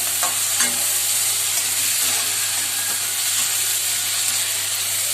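Ginger garlic paste and tomatoes frying in a pan for a fish curry, a steady loud sizzle and hiss with occasional stirring scrapes, close up and constant throughout.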